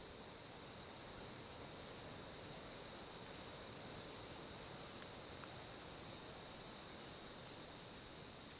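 Steady high-pitched insect chirring, grasshoppers or crickets in a Sri Lankan forest, forming a continuous even drone that fills the whole stretch with no voices.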